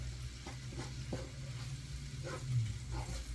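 Peppers, mushrooms and plant-based ground sausage substitute sizzle and brown steadily in a pan, with soft stirring scrapes now and then, close and continuous without talk.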